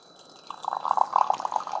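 A Famiworths single-serve coffee maker pumps hot coffee out, a small pump starting up and then steady dripping and trickling liquid into a cup, close and moderately loud with no talk.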